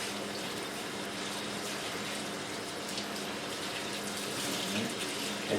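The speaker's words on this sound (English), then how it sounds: "It's still a little bit milky, so I'm going to keep rinsing it off" Steady running tap water splashes continuously over jasmine rice being rinsed in a sink, faint and unbroken throughout.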